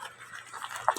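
Young puppies whimper and squeak softly while nursing from their mother, a few short faint cries over quiet background rustle.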